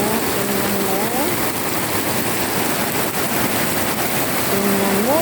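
Heavy rain with thunder and lightning around, a loud continuous wash of rain roaring steadily throughout, with faint tonal sounds appearing briefly and no talk.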